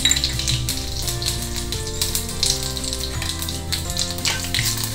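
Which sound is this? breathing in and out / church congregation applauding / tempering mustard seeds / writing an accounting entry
tempering mustard seeds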